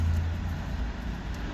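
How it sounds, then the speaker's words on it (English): Truck passing on a nearby road, a steady low rumble of traffic noise that fills the whole stretch at moderate loudness with no voices over it. "let me wait for this truck to pass"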